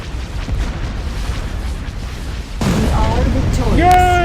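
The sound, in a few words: ion cannon firing and explosions in space battle video game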